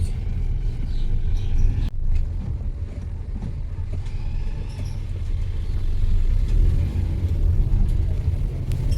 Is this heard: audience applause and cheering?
no